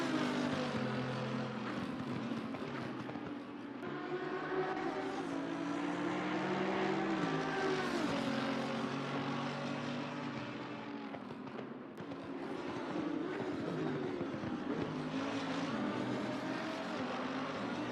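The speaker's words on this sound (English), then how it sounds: "I love the sound of the Mercedes." Mercedes race car engine in the Assetto Corsa Competizione sim racing game at Imola, a loud, continuous harmonic roar rising and falling in pitch through gear changes, with a brief dip around the middle of the run.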